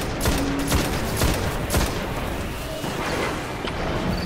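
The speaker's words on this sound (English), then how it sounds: "Fallen artillery inbound." Fallen artillery fire in the video game Destiny, augmented with SIVA: a rapid fusillade of sharp blasts and crashes with several strong impacts near the start, thinning into a continuous rumble of scattered shots.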